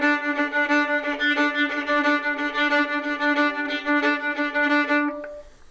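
A fiddle plays a lively Irish reel with rhythmic bowed accents on beats two and four, bright bowed notes repeating steadily before ending abruptly.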